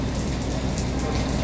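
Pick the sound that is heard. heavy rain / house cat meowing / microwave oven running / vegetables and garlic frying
heavy rain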